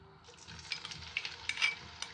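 Ginger, garlic and green chillies fry in hot oil with a quiet, crackling sizzle and light spitting pops, heard close and without talk.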